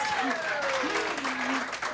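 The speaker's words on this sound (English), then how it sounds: "entrance applause, Scott." A crowd applauds steadily while a voice rises over it, with excited talking or cheering carried above the clapping.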